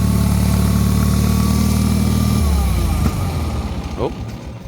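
A Bolens HT-23 garden tractor engine idles loudly and close with a steady low throb, then drops in pitch and roughens as it slows, with a voice speaking over it.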